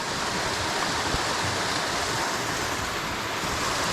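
Water falls into a small Pennsylvania trout stream, a constant close rushing and bubbling splash with no voices.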